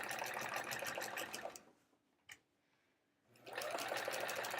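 A sewing machine quilting an hourglass block quilt hums in a fast, steady stitching run, falls silent for a couple of seconds apart from a single small click, then starts up again at full speed.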